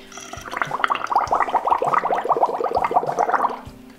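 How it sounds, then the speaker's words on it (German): Someone blows through a straw deep into a glass of water, producing several seconds of continuous low, rapid bubbling and gargling, close and loud, with no voices. "Und dann pusten wir einfach in das Wasser rein und damit könnt ihr verschiedene Geräusche machen"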